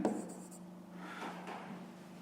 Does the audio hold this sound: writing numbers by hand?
yes